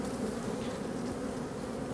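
Honeybees in queenless starter hives used for royal jelly production make a dense, steady buzzing hum that fills the whole stretch at close range, with no voices.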